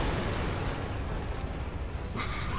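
Explosions roar continuously through a Resident Evil 6 boss fight against the Ustanak, a loud, sustained rumbling blast with a brighter burst near the end and no talk.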